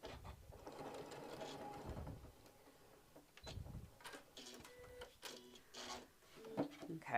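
A sewing machine stitches fabric for a travel tissue holder in short quiet bursts of motor whir, broken by pauses and small clicks and rustles of handling.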